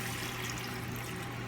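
Water poured into a pot of browning chicken for a Japanese chicken curry, a steady, continuous rushing pour close up that lasts the whole moment with no talk over it.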